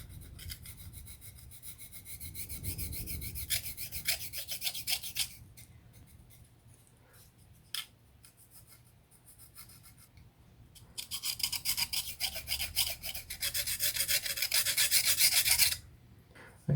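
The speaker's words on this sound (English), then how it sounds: "needle file for this" Fine, dry rasping strokes from a needle file worked on a small model aircraft part, heard close and fairly quiet. Bursts of steady back-and-forth filing are broken by a short pause and a single tap, then resume more intensely.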